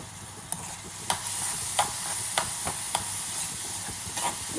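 Food stirred in a cooking pot on the stove, a continuous sizzling hiss with a handful of sharp scraping knocks from the spoon roughly every half second to second, close and fairly loud.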